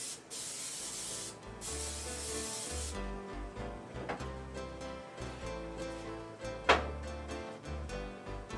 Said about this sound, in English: the first thing I need to do is to spray my dish